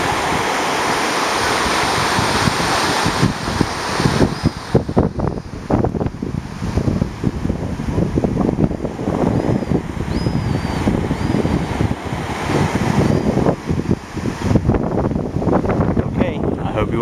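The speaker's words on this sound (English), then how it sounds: "Your daily sights and sounds of the ocean." Ocean waves roll onto a beach in a continuous, loud surf wash with gusts of wind buffeting the microphone throughout.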